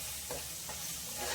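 Ginger garlic paste frying in a little groundnut oil for mutton curry, a steady soft sizzle with occasional stirring scrapes, close and moderately quiet with no talk.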